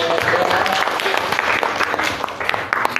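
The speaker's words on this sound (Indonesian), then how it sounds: "Masya Allah, tepuk tangan." Audience clapping at a talk, a dense, steady patter of many hands kept up for about three seconds at fairly close range, with a few louder claps standing out.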